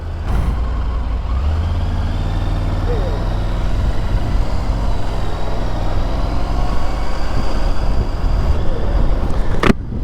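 Triumph motorcycle engine firing up at a Triumph demo day at Barber Motorsports Park, settling into a steady, loud low rumble that runs throughout, with a sharp burst near the end.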